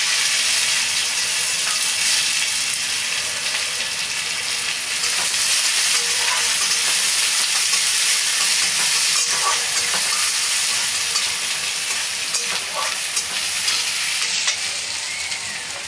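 Onions fry in oil with cumin and a bay leaf, a dense continuous sizzle and crackle, close and steady, with occasional stirring scrapes throughout the long stretch.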